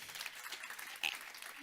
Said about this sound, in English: Round of applause as he makes his way up